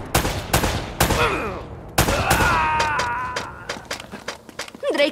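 Rapid bursts of gunfire in the video game Uncharted: Drake's Fortune crack in quick succession, loud and close, with ringing echoes and scattered single shots between volleys.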